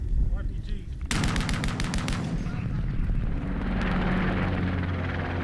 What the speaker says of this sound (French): Des hélicoptères arrivent en renfort.